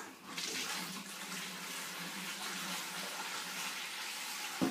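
Tap water runs steadily into a home brewing boiler, filling it for mash water with a continuous broadband rush close by, ending with a brief knock.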